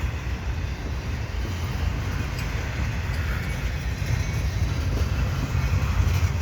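A CN double-stack freight train rolls slowly through St Henri on an autumn morning, a steady low rumble with wind noise, continuous and fairly loud.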